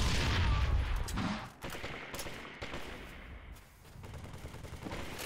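Rapid bursts of automatic gunfire in Halo 3 on the Sandtrap map during a Slayer match, loud and dense at first, then continuing as a steady stream of shots with short pauses.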